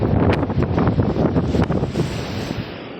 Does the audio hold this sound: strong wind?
yes